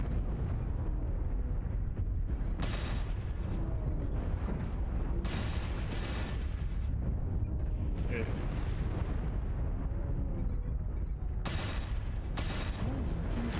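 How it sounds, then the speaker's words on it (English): Artillery strike explosions in the video game MechWarrior Online, repeated deep booming blasts rolling under constant rumbling combat noise, with several sharp bursts spaced across the stretch. "Artillery strike is out."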